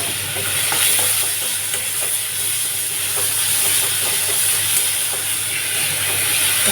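Onions dropped into hot mustard oil with whole cumin and chilli in a wok, a steady loud sizzle and hiss with stirring scrapes throughout, no voices.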